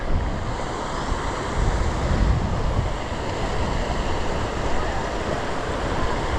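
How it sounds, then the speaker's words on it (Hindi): A small waterfall at a Himalayan shrine in Himachal Pradesh pours down from above as a steady broadband roar, loud and continuous, with wind buffeting the microphone. "ऊपर से एक छोटा सा झरना भी बह रहा है।"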